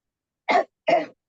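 Two short, close coughs in a row, about a third of a second apart, sharp and moderately loud against silence.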